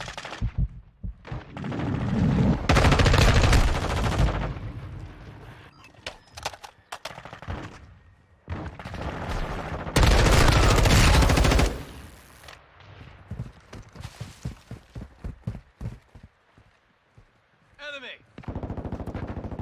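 Sustained automatic gunfire and rapid single shots from the video game Call of Duty: Modern Warfare 2 (2022), loud and close in long bursts with breaks, under occasional game voices and talk.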